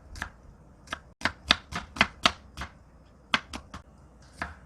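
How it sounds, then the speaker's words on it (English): A knife chops a small onion on a board for a Korean braised tofu dish, about a dozen crisp close taps in two quick bursts separated by a short pause. "I will chop 1 small onion."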